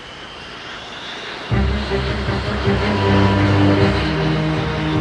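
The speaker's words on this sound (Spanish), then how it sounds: "...170 aviones de la coalición se preparaban para atacar." Military coalition aircraft fly overhead during war operations, a loud sustained engine roar that swells in abruptly and holds steady, with droning low tones shifting in pitch as they pass.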